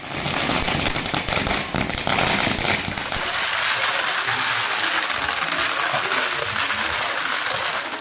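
Dense, continuous crackle of firecrackers bursting at a street celebration by political fans in Tamil Nadu, loud and sustained throughout with rapid overlapping pops.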